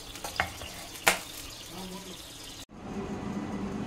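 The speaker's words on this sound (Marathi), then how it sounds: "आता मी वरून याला फोडणी घालणार आहे आणि ही डाळ फोडणी घालून मोकळी डाळ करणार आहे." Tempering (phodni) of spices sizzles in hot oil as it is poured over and stirred into cooked dal, a brief crackling burst and clatter followed by a steady, close hiss with soft stirring.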